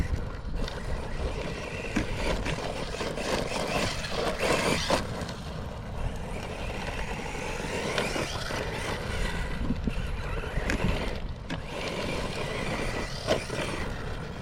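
An Arrma Typhon 1/8-scale RC buggy drives over loose, rocky terrain, its motor whining continuously while tires crunch and rattle over stones, loud and close with no talking.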